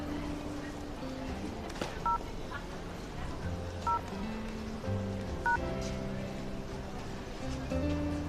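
A phone call being dialed from a drama scene, a few short paired keypad tones ringing out briefly over background music and room sound.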